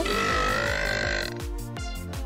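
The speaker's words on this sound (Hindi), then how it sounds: "और अब मैं डकार मारूंगा।" An animated cartoon character lets out a long, loud, rumbling burp lasting about two seconds, alone with no talking over it.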